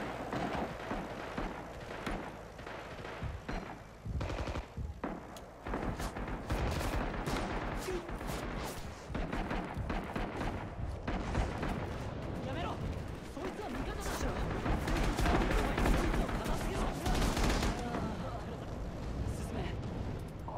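Artillery barrage in the World War II shooter Red Orchestra/Rising Storm, a run of heavy booms and crackling gunfire scattered through twenty seconds of battle noise, with players talking over it.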